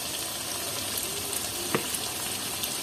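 Onion and garlic pastes frying with reddened tomato for mutton, a dense, steady close sizzle with one sharp tap midway.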